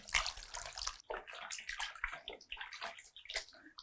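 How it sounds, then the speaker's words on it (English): A shirt is dropped into water and soaked for tie dye, with steady sloshing and splashing that rise and fall across the few seconds, close and fairly loud, with no talk over it. "just drop it in and soak it Yep, just put it in and get it all wet"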